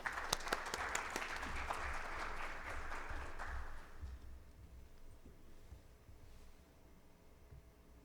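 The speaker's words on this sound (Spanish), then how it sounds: "Les pediré un fuerte aplauso" Audience applause at a medical congress session, a strong burst of crowd clapping that fades out after about four seconds, leaving a quiet room hum.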